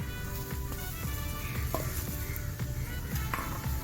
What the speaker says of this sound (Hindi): सुहांजना को मैंने 3-4 मिनट मस्टर्ड ऑयल में सौते कर लिया है